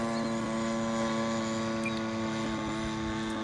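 A 30cc gas engine powers a giant Great Planes Avistar RC airplane in flight, giving a steady, buzzing drone at moderate distance that holds an even pitch throughout.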